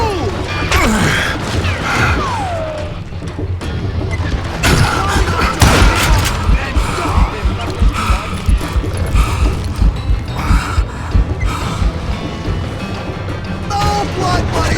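Gunfire from the western shooter game Call of Juarez: Gunslinger, with a loud, steady barrage of shots and crashing impacts over game music and a shouting voice.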